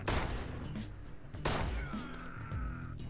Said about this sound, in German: nach 6 Schuss muss er natürlich nachladen